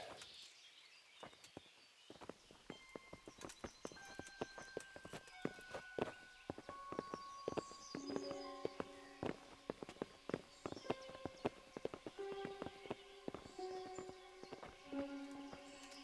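Hooves clip-clop at a walking pace in the video game Kingdom Come: Deliverance, several horses moving close by, with tonal musical notes ringing out over the steady footfalls.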